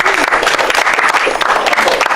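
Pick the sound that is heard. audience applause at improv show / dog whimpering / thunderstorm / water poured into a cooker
audience applause at improv show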